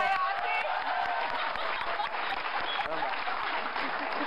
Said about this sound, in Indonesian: tepuk tangan ayah ASI